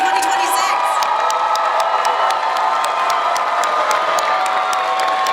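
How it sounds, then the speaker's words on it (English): Loud, continuous applause and cheering from a crowd celebrating a graduating high school class at a graduation ceremony, with whoops and shouts layered over steady clapping throughout. "One big round of applause for our class of"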